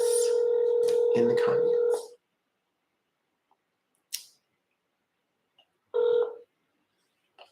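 A phone dialing out on a call during a live scambaiting stream: a loud steady tone lasting about two seconds, then a short click and a second brief tone burst near the end, with a few words spoken.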